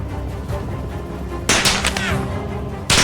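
Gunfire in the military shooter game Arma Reforger, fired at players: loud sharp broadband cracks, one burst around midway with quick follow-up reports and another at the very end, over steady low ambient rumble.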